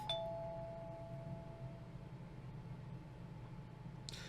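A doorbell in the horror video game Corpse Party: Blood Drive gives a single bright chime at the start, its tone fading over a low droning hum, with a faint noise burst near the end.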